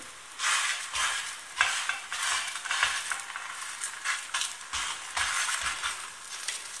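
Moroccan msemen flatbread frying in a hot pan while its edges are pressed down, giving a steady close sizzle with bursts of scraping and soft thumps and no voices.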